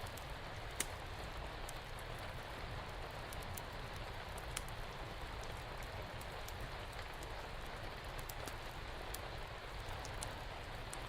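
Steady, dense rainfall pours without pause, a constant wash of drops with occasional sharper patters standing out, moderately loud throughout and with no voices.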